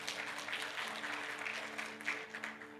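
A church congregation applauds together during a worship service, a steady dense patter of many hands clapping with a low hum beneath it.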